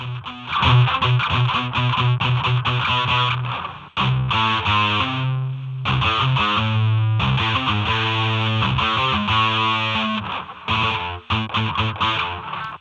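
A heavily distorted, buzzy synth tone plays a choppy sequence of notes, gritty and harmonically dense, with brief gaps between phrases; a distortion effect with comb filtering in FL Studio 12.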